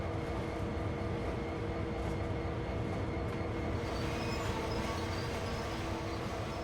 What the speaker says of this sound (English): We just need to pull our locomotive onto the turntable